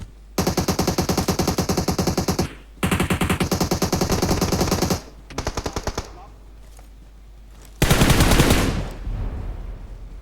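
Gunfire in the mobile video game PUBG Mobile comes as several loud, rapid automatic bursts separated by short pauses, then a final harsher, broader blast that fades out.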